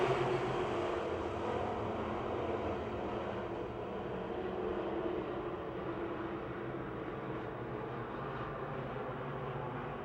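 A pack of race cars runs wheel to wheel on a restart at Pennsylvania Motor Speedway, a continuous, distant engine roar with no clear individual passes and no talking.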